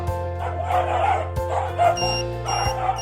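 Repeated barks and yips from a dog fitted with a Num'Axes anti-bark collar, close and fairly loud over a constant low hum, with a few bright chirping tones in between.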